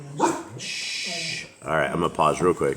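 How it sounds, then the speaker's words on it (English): Dogs barking in a few sharp bursts near the start, under a person quietly hushing and talking. "sorry for the dogs"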